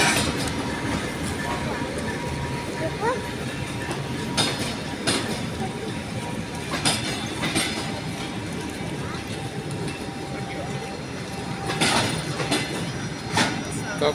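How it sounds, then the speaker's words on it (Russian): A train rolls past on a rail line toward Novy Urengoy, a steady rumbling wash with repeated clicks and clacks from the wheels, fairly distant, while a family talks nearby. "Какой поезд? А куда это он едет?"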